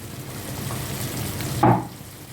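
Chicken liver with pear sizzling in a covered pan over low heat, a steady faint frying hiss with a brief louder burst of crackle near the end.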